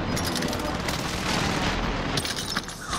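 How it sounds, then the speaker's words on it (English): Precision airstrike explosions in a shooter video game roar as a dense, continuous barrage of booms and blasts, loud and close, with muffled voices underneath. "Enemy precision airstrike."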